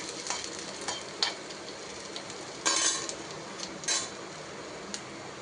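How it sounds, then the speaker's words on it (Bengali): Chopped ginger sizzles and fries in hot oil in a pan on a gas stove, a steady close crackle broken by a few scrapes and clinks of a stirring utensil. "একটু দিয়ে দেবো আদা কুচি, গ্যাসটা সিম ছিল, একটু তেল বাড়িয়ে দিলাম।"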